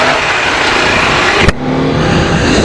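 Bajaj Dominar and Honda CBR motorcycles in a short drag race of about 150 metres, with steady loud engine roar throughout and a sharp burst near the middle as the bikes pass.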